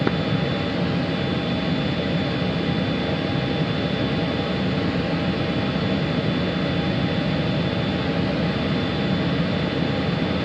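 A jet on afterburner in a flight simulator game, a loud, steady, unbroken roar with a thin high whine running through it, holding at constant strength the whole time.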